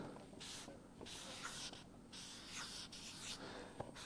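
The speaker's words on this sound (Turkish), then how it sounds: "Onu da yazayım şuraya." Something being written down by hand, several soft scratchy strokes and pauses close to the mic, quiet and brief, with no talk.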